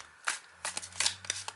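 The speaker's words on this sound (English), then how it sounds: "I'm going to have to shuffle these cards for quite a bit just to make sure that they're all nicely mixed up" Thick tarot cards are shuffled overhand by hand, with a few soft riffling swishes and slaps at close range and no talk.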